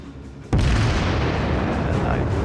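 Warship guns in a naval battle video game fire a single sudden heavy boom that gives way to a loud, sustained rumble carrying through to the end.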